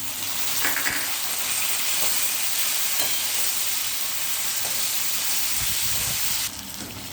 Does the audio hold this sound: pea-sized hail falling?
no